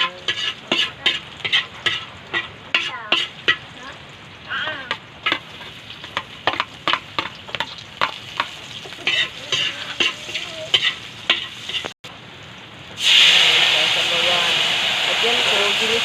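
Aromatics sautéing in a pan for a breakfast dish cooked outdoors in the mountains, with repeated sharp scrapes and clacks of stirring over a steady sizzle, ending in a sudden loud, sustained hiss as liquid or ingredients hit the hot pan.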